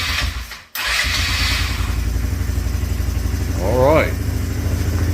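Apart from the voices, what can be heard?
150cc ATV quad engine starting and idling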